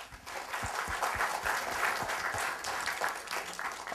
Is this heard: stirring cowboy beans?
no